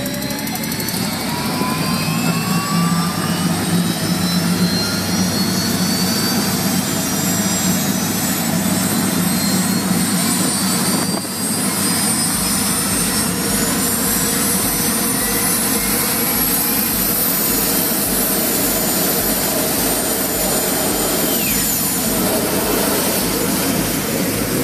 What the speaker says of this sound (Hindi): इस बाइक में Rolls Royce 250.C18 turboshaft engine को लगाया गया है